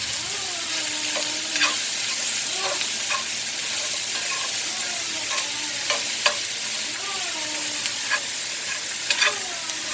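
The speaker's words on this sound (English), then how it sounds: "Vegetables in. And give them a good stir." Vegetables for a chicken pot pie stirred in a hot pan, a steady close sizzle with repeated scraping spoon strokes and light taps against the pan bottom, no talking.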